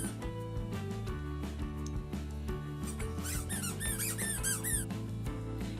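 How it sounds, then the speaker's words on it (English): Repeated high-pitched squeaks from a dog's rubber squeaky toy being squeezed rapidly, over a steady background tone. "also loves her bones and her squeaky toys"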